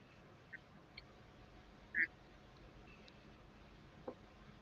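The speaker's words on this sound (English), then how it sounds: "a duck was just quacking over here off and to the right" A single duck quacks once, faint and somewhat distant off to one side beside Lake Springfield in Illinois, with a few softer bird calls around it over a steady low outdoor background.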